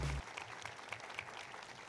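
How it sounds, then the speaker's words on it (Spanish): Faint, distant clapping from a crowd at a gastronomy symposium inauguration that continues briefly and evenly, quiet under a low room hum. "pido un fuerte aplauso"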